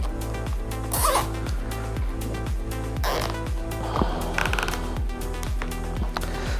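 Zip tie ratcheting tight around a cord on a Fly Racing motocross helmet, a fast run of evenly spaced clicking pulls, close and steady, over a loud low-pitched hum.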